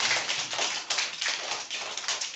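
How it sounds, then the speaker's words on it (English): Children in a classroom clap for a classmate during a maths lesson, a steady patter of many small hands, close and fairly even, with no talk. "Give clap to Durvisha."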